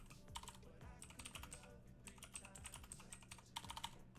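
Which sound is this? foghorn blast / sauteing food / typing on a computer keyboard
typing on a computer keyboard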